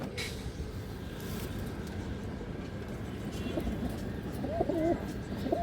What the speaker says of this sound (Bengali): এই দেখেন মাদি কবুতর